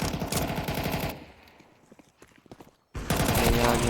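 Automatic gunfire from Counter-Strike 2 rattles in loud bursts, breaks off into a quieter stretch of scattered shots and footsteps, then resumes abruptly with another heavy volley.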